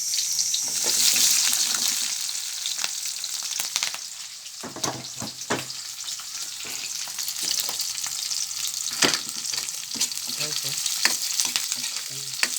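Onion frying in a hot pan, giving a loud, continuous crackling sizzle with frequent clattering stirs and scrapes close by.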